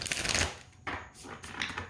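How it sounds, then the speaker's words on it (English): A hexagon-shaped oracle card deck, stiff and new, is shuffled by hand in short bursts of riffling and flicking, close and soft, with brief pauses between. "I'm just giving this a shuffle, which her Oracle decks are hard to shuffle at first."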